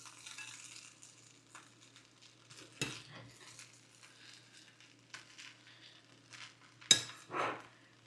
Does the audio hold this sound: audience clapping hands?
no